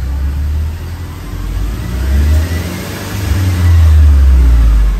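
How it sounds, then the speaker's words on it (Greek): A 2012 Mercedes SLK engine with tuning is revved as the gas pedal is pressed, a loud close rumble that swells and holds at higher revs. "Τώρα πατάω το γκάζι."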